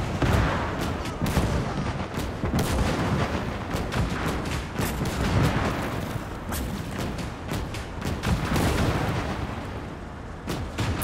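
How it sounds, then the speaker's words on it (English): Nebelwerfer rockets and artillery batteries firing in the World War II game Gates of Hell, a dense, continuous barrage of booms and gunfire cracks rolling without pause, loud and layered throughout. "Nebelwerfer is firing and all the batteries are opening up in the back."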